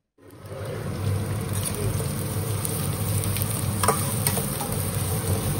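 Garlic, green chilli, curry leaves and onion sauté in hot oil, giving a steady, close, crackling sizzle that starts abruptly and holds at an even level throughout with no talking.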